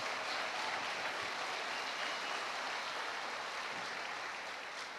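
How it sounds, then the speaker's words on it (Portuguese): Congregation at a church congress applauds for the Lord, a broad, steady wash of clapping holding even for five seconds and easing slightly at the end, fairly distant and with no one speaking. "Vamos aplaudir o Senhor."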